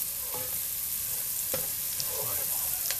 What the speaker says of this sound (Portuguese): Aqui a gente deixa o colorau fritando um pouquinho.